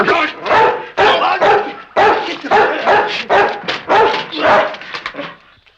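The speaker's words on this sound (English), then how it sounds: "That's a good dog." Dog barking in rapid bursts, loud and close, a string of sharp barks and yips with brief whimpers in between, fading out at the end.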